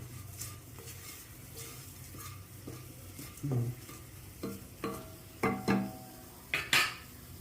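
Scraping and stirring of chilli powder in a pan with a soft sizzle, stove off, for chicken kulambu, with several sharp clinks of a utensil against metal growing louder toward the end.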